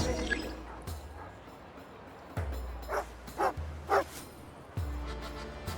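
A dog in Genshin Impact barks and yips several times in short bursts, fairly close and clear, with a few quieter gaps between barks.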